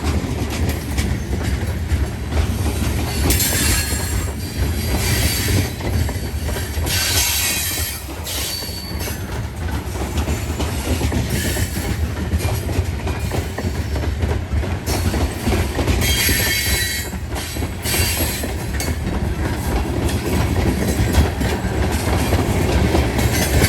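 A CSX freight train of loaded rock cars rolls steadily past close by, with continuous heavy wheel rumble, rhythmic clickety-clack over rail joints and intermittent high wheel squeal on a tight curve.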